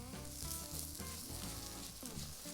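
Button mushrooms, seasoned with salt and pepper, sear in a pan with about a third of a tablespoon of oil, giving a dense, even sizzle that stays close and continuous throughout.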